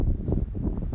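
Wind gusts outdoors at a fishing spot, a brief low rumbling buffet across the microphone that swells and eases over a second, with no voices.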